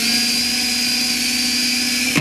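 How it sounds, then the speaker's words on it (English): A power drill whines at a steady high pitch while boring into a marked stripe on a jet wing for a center spar, then spins down abruptly at the end, close and loud. "Now we drill into the stripe."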